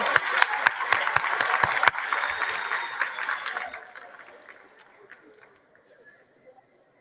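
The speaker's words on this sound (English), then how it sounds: "A round of applause once more." Audience at a matric examination results announcement claps for a student, brisk crisp applause with distinct claps that thins and tapers into scattered light claps and quiet murmuring.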